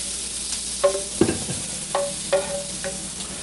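Onions frying in a pan as they are stirred, giving a soft steady sizzle with several sharp scraping strokes from the utensil, close up and without any talking.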